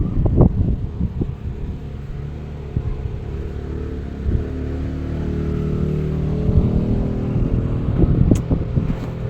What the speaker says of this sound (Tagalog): napakaingay ng mga motorsiklo guys